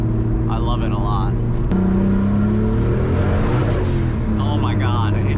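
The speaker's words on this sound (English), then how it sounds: "It hits rev limiter instantly." A 560 hp turbocharged Nissan 240Z with an L28 engine revs hard and bounces off the rev limiter while spinning 315 tires, loud and close from inside the car, rising and stuttering at the limiter, with people talking over it.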